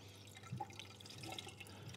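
Water pushing through the cooling system of a BMW Z4 3.0si, a faint gurgling and trickling with soft drips over a low steady hum.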